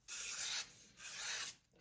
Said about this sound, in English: you can hear that this thing is just absurdly sharp passing through that paper